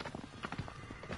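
A horse's hooves clip-clop in quick, rhythmic steps in the video game Unravel Two, a brief run of moderately loud hoofbeats.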